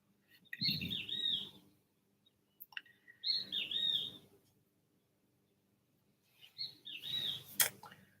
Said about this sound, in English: it's a bird making noise